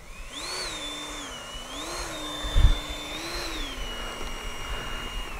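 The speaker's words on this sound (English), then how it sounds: "Motor on." The electric motor of a Freewing A-6 Intruder RC jet whines up and down in smooth swelling waves with one short thump partway through, steady and moderately loud.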